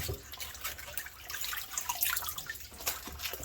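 Fresh mustard greens are dipped and swished in a sink of water to rinse off dirt and mulch bits, giving close splashing, dripping and sloshing in irregular bursts with no talk.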